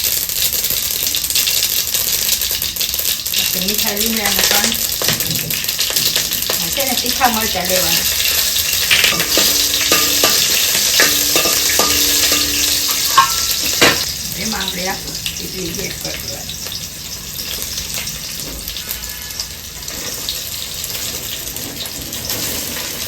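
Constant crackling sizzle of mustard seeds and cumin frying in hot oil for tempering, steady and close, with someone talking over it at times.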